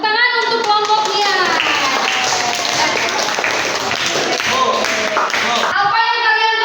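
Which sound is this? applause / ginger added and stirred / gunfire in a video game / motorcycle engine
applause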